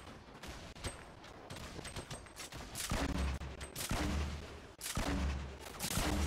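Rapid bursts of gunfire from a Fortnite battle, dense repeated shots, with heavier booming impacts in the later seconds, loud and continuous throughout.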